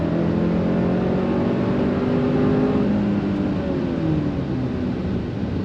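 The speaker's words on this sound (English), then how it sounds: "On throttle, here we go, a little bit of delay, but then she goes." A 2025 Hyundai Santa Cruz XRT pickup accelerates on throttle from a roll, its engine drone steady and loud with rising tones as it pulls, no voices over it.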